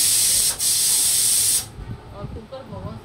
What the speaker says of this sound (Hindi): कुकर बहुत सीटी मार रहा है